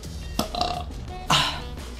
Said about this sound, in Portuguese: Desculpa pelo arroto.